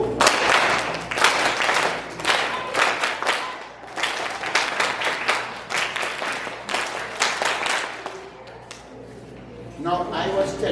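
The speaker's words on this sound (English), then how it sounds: "let's see if you can clap that text" Children clap a rhythm together in bursts of sharp group claps with short pauses, and voices are heard between the rounds.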